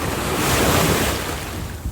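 Ocean waves roll in at a beach in La Union, Philippines, a loud continuous surf wash with wind buffeting the microphone.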